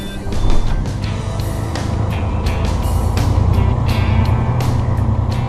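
Truck loaded with beehives driving along, a close low engine drone under repeated sharp clicks and rattles from the moving load, steady in level throughout with no speech.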